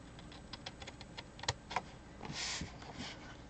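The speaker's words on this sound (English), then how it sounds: "and I'm going to cut it here and then miter it just a little bit" Snips cutting and mitering gift packaging material, a run of small close clicks and snaps followed by a brief rougher cutting sound, faint and without talk.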